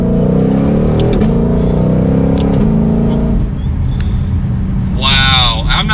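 2022 Shelby GT500 or Dodge Challenger SRT Hellcat V8 in sport mode, loud rising engine roar as it accelerates through short-shifted gears, steady and close throughout.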